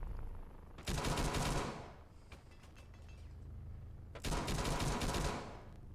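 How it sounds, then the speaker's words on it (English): Gunfire in a tactical shooter video game, likely Rainbow Six Siege, two sharp bursts of rapid shots about three seconds apart, close and loud against quiet background. "I'm taking pop shots at Aruni, keeping her from going to help Cav as she goes back to site."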